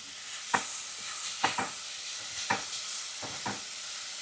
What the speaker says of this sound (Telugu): సాల్ట్ వేస్తే కొంచెం ఆనియన్స్ వేగుతాయి కదా